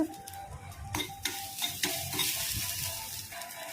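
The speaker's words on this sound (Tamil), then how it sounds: "1/4 டேபிள் ஸ்பூன் வெந்தயம் எல்லாம் போட்டு வதக்கிக்கணுங்க." Fenugreek and cumin seeds sauté in hot oil, giving a close, bright sizzle with quick spoon stirs and scrapes against the pan over a few seconds.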